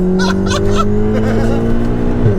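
A VW Golf R's engine revs hard while the car is driven along a rough, rally-like road, with a loud, close drone rising in pitch and a voice talking over it briefly.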